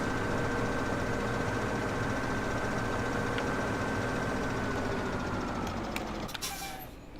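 Tractor engine idling in Farming Simulator 17, a steady low rumble held close and loud for about six seconds before it fades and thins out near the end.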